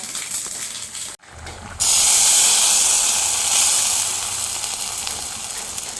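Mustard seeds hit hot oil while raw banana stir-fry is being prepared. After a brief quiet gap, a loud, bright sizzling hiss bursts out close by and slowly eases off.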